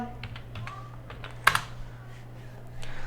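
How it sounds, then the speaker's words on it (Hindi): Keys tapped on a computer keyboard while entering a password, a handful of soft irregular keystrokes with one sharper louder press in the middle, close and alone over a steady low hum. "तो मैं यहाँ पे पासवर्ड डाल के इसको खोल लूंगा।"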